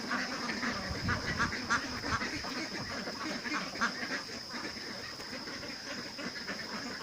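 Many 13-week-old laying ducks quack together in a dense, continuous chorus, a busy flock heard over a steady hum.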